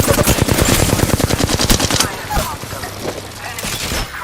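Rapid automatic gunfire from an Apex Legends firefight, a dense burst of repeated shots for about two seconds that then drops to a quieter tail with scattered sounds.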